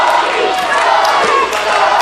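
A wrestling crowd at an independent show roars for Brodie Lee, a dense, loud wall of cheering and shouting that holds steady throughout.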